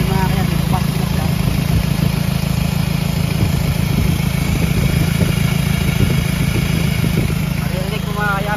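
A freshly overhauled Hyundai D4BH diesel engine runs with its turbo working, a loud, continuous close-up rumble and clatter with a faint voice briefly underneath.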